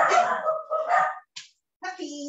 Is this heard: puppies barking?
yes